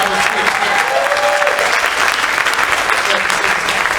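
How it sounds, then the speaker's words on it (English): Steady, dense applause from an evening audience at an Indivisible North Seattle community event, loud and even throughout without a break, with faint voices underneath. "How about another round of applause for Judith?"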